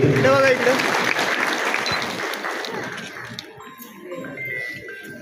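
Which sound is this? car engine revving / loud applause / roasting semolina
loud applause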